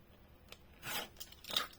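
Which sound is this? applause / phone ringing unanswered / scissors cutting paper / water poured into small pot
scissors cutting paper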